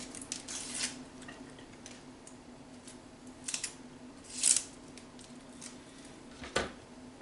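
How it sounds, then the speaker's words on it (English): A knife cuts through an onion on a cutting board, with a few sparse, soft crunching slices and taps, faint and close, spread out over quiet background hum. "So when I cut an onion, I cut off both ends and I cut it in half"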